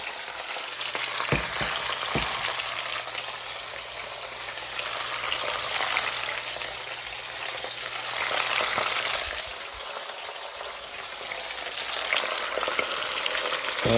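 Onions fry in a pot as part of a meat boil, giving a continuous loud sizzle with occasional stirring and bubbling, no voices.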